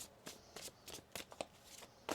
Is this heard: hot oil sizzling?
no